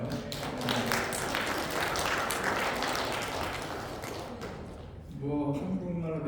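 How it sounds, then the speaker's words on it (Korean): Sunday church congregation clapping in welcome, a dense run of hand claps that thins out near the end as a voice speaks over it. "박수를 부탁드리겠습니다"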